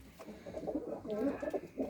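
A racing pigeon, a prize-winning bird, coos in soft repeated rolling phrases, close by and fairly loud, with a faint voice in the background.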